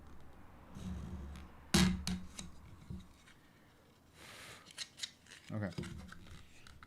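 Scissors or a blade cut through car interior trim and carpet during a low-stance build, with several crisp snips and scraping cuts at close range and a voice speaking briefly.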